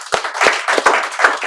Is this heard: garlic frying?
no